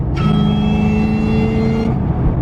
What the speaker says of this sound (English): Let me actually downshift so you guys can listen to it. You know, you get a little bit of gas.